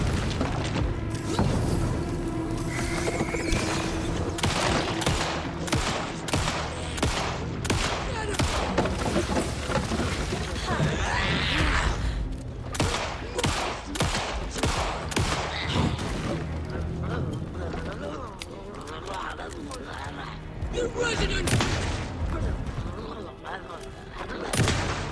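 Pistol gunfire in the video game Alan Wake 2, a rapid run of sharp shots firing in bursts amid booming impacts and game noise, with a voice talking intermittently over the action.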